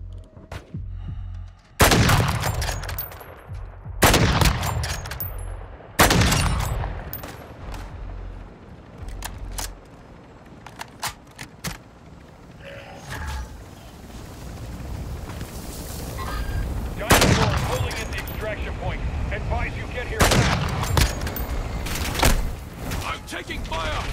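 Battle gunfire in Call of Duty: Modern Warfare II comes as repeated loud bursts and single sharp shots spread across the span, with rattling mechanical noise between them and voices underneath.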